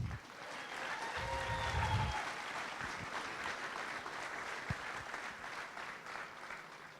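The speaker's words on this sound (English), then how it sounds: "So ladies and gentlemen, please give a nice big round of applause" Steady applause from a crowd at a political campaign bus tour kickoff event in Exeter, New Hampshire, heard at a distance and continuing evenly, with a few faint voices mixed in.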